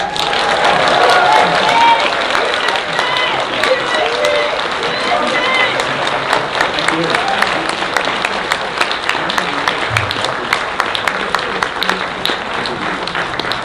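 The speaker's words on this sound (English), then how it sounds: "So just give him a big hand of applause again." Audience applause at a conservative political talk on US-Asia relations, dense clapping that holds steady throughout, with crowd murmur and some talk mixed in.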